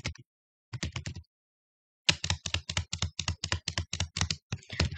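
Program code is typed on a computer keyboard, close crisp key clicks in short bursts with pauses, then a steady quick run of keystrokes; no voices.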